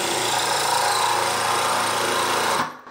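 A cordless drill runs steadily at high speed while building a simple wooden bench, a loud continuous whine that stops abruptly near the end.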